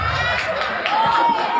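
Students at an Islamic boarding school's Maulid Nabi gathering raise a noisy cheer, a dense continuous crowd roar with shouting voices, loud and close throughout.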